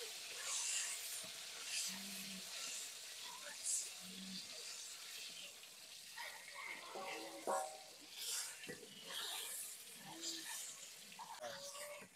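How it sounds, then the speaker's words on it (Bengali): Boiled eggs fry lightly in oil in a karahi, giving a steady soft sizzle with occasional stirring and clinks, while a voice talks intermittently. "তো আমি হালকা করে তেলে ভেজে নেব।"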